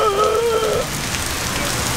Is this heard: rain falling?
yes